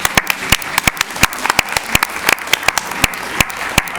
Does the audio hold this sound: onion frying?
no